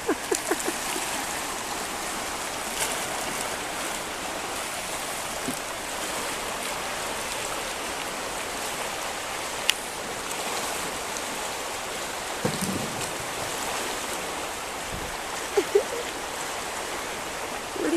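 Thomas Creek flowing, a continuous broadband rush of moving water with a few faint knocks and splashes scattered through, steady and close with no talk.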